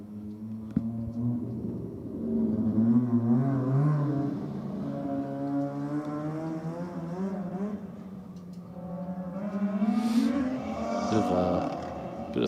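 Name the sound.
Mazda RX-7 race car engine with throttle jump on track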